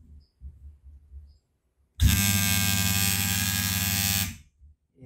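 An Andis T-Outliner beard trimmer switches on after a quiet moment and runs with a steady, loud electric buzz for about two seconds before cutting off.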